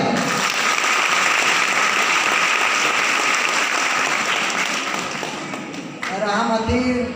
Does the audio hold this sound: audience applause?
yes